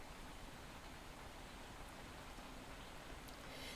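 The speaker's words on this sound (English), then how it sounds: "Oh, the rain is here." Soft, steady rain falls as a faint, even wash of noise, continuous and unbroken with no voices.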